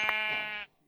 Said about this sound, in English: We can also eat sheep.